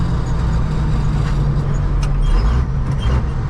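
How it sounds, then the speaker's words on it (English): A car approaching and passing on a narrow road, heard from inside the cab of a new dump truck over its loud low engine rumble, with a brief whoosh as the vehicles meet. "Here comes the car here."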